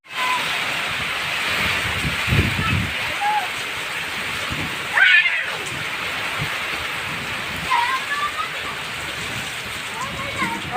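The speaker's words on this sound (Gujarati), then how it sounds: "લીમડીમાં ફૂલ વરસાદ." Heavy rain pours steadily over a village in Limdi, a dense continuous wash of noise with a few louder splashes and faint voices in the background.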